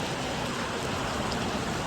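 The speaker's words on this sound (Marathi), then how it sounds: "किती पाऊस आहे बघा." Dense, steady downpour hissing evenly across the whole stretch, a constant roar of heavy rain with no talking.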